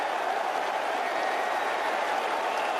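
Cricket crowd applauding a catch by Collingwood: dense, continuous clapping from a large stadium audience, steady and unbroken throughout.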